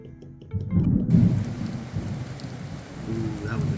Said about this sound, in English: I love thunder and lightning.